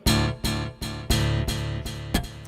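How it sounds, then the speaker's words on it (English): An acoustic guitar picks repeated notes with a quick, rhythmic dotted-eighth-note delay echo trailing each one, creating a pulsing, cascading pattern of repeats. "it's a little bit faster. It's a dotted eighth note delay."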